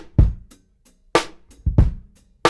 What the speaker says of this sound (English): I found this drum loop called Bone Dry Break 2 in Logic's loop